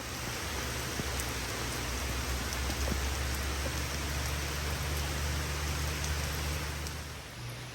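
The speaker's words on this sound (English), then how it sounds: "it just got really dark and started raining out of nowhere" Steady rain falls outdoors around a porch with a small front garden bed, a dense continuous hiss with occasional sharper drops against surfaces and no talking.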